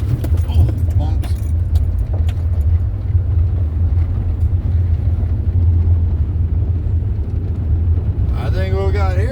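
A 1997 Ford F-150 pickup truck driving, a steady low engine and road rumble from inside the cab with some rattling, and a voice briefly at the end.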